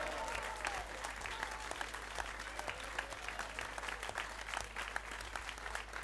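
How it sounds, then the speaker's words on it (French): Sustained audience applause at a Reconquête political rally in Orange, dense and steady throughout with a few cheers and voices mixed into the crowd noise. "Je vous demande d'applaudir Alain Père"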